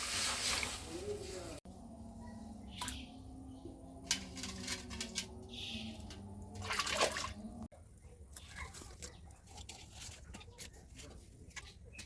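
Water splashing and dripping as cut vegetables and jackfruit seeds are rinsed by hand in a village kitchen, with irregular close sloshes and trickles amid background talk.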